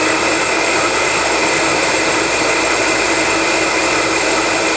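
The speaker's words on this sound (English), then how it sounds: "that just took a couple seconds to mix in the Vitamix" A Vitamix blender whirs on brine for a probiotic salad, a loud, even, continuous motor roar with no pauses.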